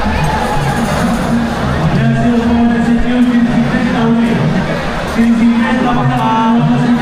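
A dense crowd murmurs and chatters at the Chinchpokli Chintamani pandal during the Patpujan ceremony in Mumbai, a steady babble with a droning tone running underneath throughout.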